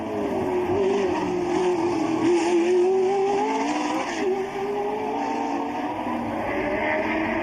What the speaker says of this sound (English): And there is the magnificent Keke Rosberg, who has driven a determined charging race again